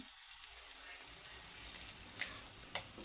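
Egg and onion fry softly in a pan, a faint, steady sizzle with a few small pops and crackles.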